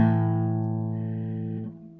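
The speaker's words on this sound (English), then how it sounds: "That's it. That's the sound of a fifth." A single sustained guitar fifth interval drones and slowly fades, with a light string squeak near the end.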